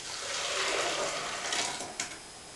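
Homemade almond milk is poured from a container into a milk bag set over a large measuring cup, giving a continuous, close liquid gush that trails off near the end.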